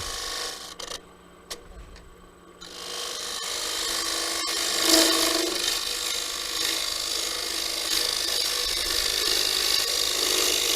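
A woodturning tool trims a lip on a wooden piece spinning on a lathe, giving a steady close rasping scrape that swells after a quieter, choppier start and continues to the end.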